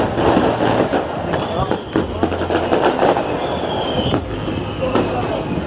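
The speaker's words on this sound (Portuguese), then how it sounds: "Bateria antiaérea, canal explosão." A fireworks battery, a large mortar, going off outdoors, giving a dense, continuous crackle with scattered sharp bursts throughout, while people talk loudly over it.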